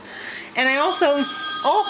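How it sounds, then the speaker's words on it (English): A telephone rings in a home, its electronic tone running underneath a voice as she talks over it. "that's the phone"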